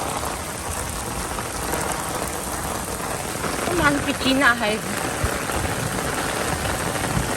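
Heavy rain pours down in a steady, loud, dense hiss throughout, while a person speaks briefly partway through.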